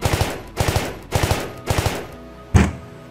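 Gunfire in a comic drama: four quick bursts of automatic fire, each a tight cluster of three or four shots, evenly spaced and loud, followed by a single heavier closing shot with a short ringing tail.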